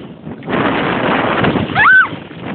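Strong wind batters the microphone in heavy, uneven gusts that swell and fade, muffling the scene and peaking near the end. A brief voice-like cry cuts through one surge.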